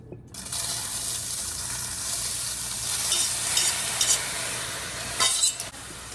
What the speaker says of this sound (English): I'm going to transfer my noodles